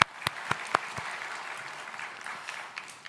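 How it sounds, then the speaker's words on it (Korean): A church congregation claps to welcome first-time visitors, a dense wash of applause that begins with a few sharp, separate claps and settles into steady, moderately loud clapping that gradually thins. "여러분 박수로 처음 오신 분들 한번 환영하겠습니다"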